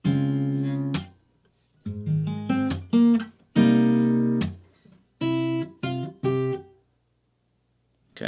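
An electric guitar riff from a song, with a few plucked chords and single notes in an uneven rhythm, some held and some cut short, loud and close with no talking.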